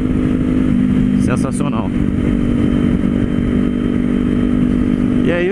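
A Kawasaki Z400 motorcycle engine runs at a steady idle, its low hum continuing under someone talking briefly and excitedly over it.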